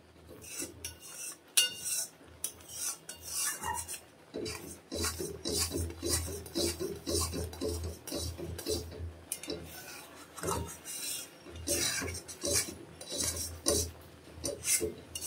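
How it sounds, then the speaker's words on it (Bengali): Semolina cooked with Amul milk is stirred in a wok, giving repeated rasping scrapes of the spoon against the metal in a busy, uneven rhythm, close and moderately loud. "আমি এরকম নেড়ে দিবে, তাহলে আর কড়াইতে লাগবে না"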